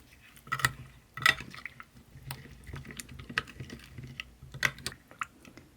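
A spoon mixes rose tteokbokki ingredients in a bowl, including rice cakes, cream and a spoonful of gochujang, with quiet, irregular clicks and light taps against the bowl over a faint background.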